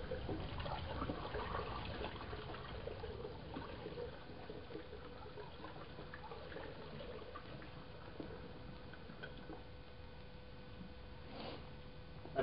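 Water poured into a home-brewing batch for a 5-gallon brew, a steady continuous trickle and splash of liquid filling a vessel, moderately quiet and unbroken for several seconds, with no talking.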